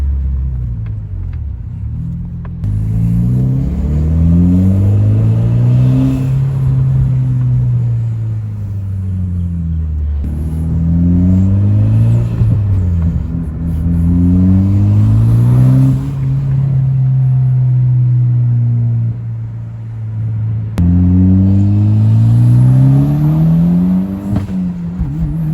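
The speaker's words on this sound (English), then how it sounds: "Now here I'll drive off so you guys can hear that turbo spool up a little bit." A 2010 Mitsubishi Lancer Evolution GSR with its turbocharged four-cylinder pulls away, engine rumbling loud and close through rising revs and gear changes, with the turbo spooling up and no voices over it.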